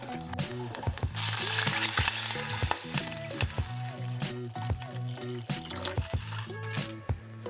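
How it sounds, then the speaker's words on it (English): Green onion aromatics fry in hot vegetable oil in a saucepan, crackling and sizzling up close while being stirred, with clanks and scrapes of a utensil against the pan marking an uneven rhythm. "Heat some vegetable oil in the saucepan and throw in the aromatics. Fry until fragrant"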